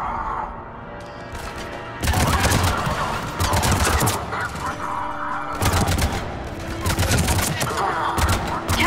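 Bursts of gunfire in the sci-fi shooter game Mass Effect 3, several loud volleys of rapid shots separated by short pauses, layered over a constant background hum of battle.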